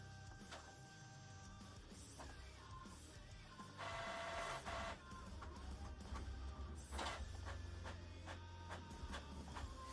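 A printer runs quietly through a job of printing sheets, feeding and printing with a steady whirring under faint clicks and a brief louder rattle partway through, heard at a distance in a room with no talk.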